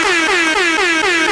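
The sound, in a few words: air horn blast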